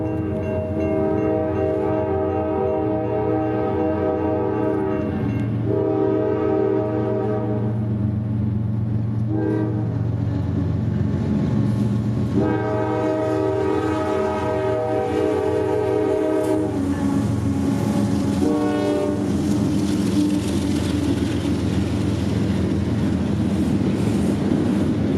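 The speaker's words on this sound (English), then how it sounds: "Two massive GE locomotives would barrel south with plenty of intermodal traffic for Jacksonville" A long CSX intermodal freight train, about 13,000 feet, barrels south through central Georgia behind two GE locomotives, with a mid-train CM44AC distributed power unit. A loud, sustained, chord-like horn sounds in repeated long blasts over steady rumbling and rolling wheel noise.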